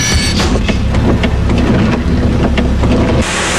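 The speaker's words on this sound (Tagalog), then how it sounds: "Sa gitna ng buhos ng ulan" Heavy rain pouring down in Legazpi, Albay, a loud dense continuous roar of falling water with gusty rumble, steady throughout with no voices.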